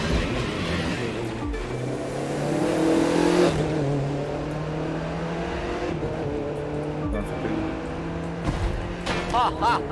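Engine of an Audi racing after an F1 car in a video game, a steady droning roar with revving surges and brief tire squeals, while background talk runs underneath.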